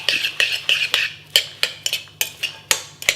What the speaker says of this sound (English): And then we're going to add this riced cauliflower all together. And stir this up.